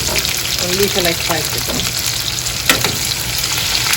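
Curry leaves and chilies hit hot oil for an eggplant cashew moju, a loud steady sizzle and crackle filling the background with one sharp pop near the end and faint speech over the frying.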